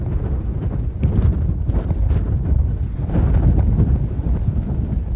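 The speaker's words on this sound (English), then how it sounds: "Windy." Heavy wind on the Appalachian Trail near Lonesome Lake buffets the microphone in a steady low roar, with gusts swelling and easing throughout and no voices.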